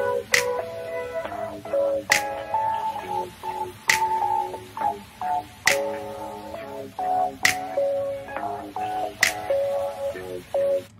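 Sharp snaps or claps in an unreleased track with a dark, moody, ominous sound, landing roughly every two seconds over layered synth music.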